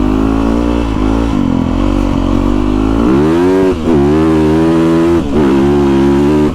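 A Yamaha YZ450FX 450cc dirt bike engine, loud and close while being ridden, droning steadily and then revving up and easing off in several surges, with no talking.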